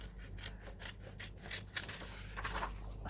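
Small, thin nail scissors with curved blades cut paper for an art journal page: faint, close snipping and rustling, with a few sharper snips near the end and no voices.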